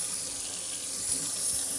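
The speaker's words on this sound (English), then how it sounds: "Hot water, just kind of slosh it around and work it in." Hot water runs steadily from a tap into a kitchen sink during cleaning, a continuous close hiss and splash with no one talking.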